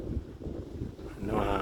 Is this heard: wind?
yes